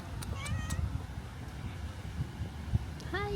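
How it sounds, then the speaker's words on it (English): A small, wet kitten meows several times, short high mews scattered over outdoor background noise, with people speaking softly nearby. "Oh, look at the kitty cat."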